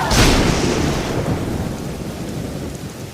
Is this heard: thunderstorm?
yes